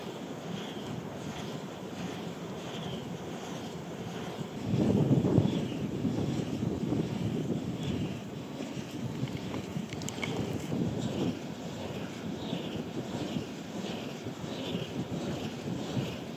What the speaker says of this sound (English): There is quite a wind